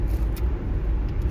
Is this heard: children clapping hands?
no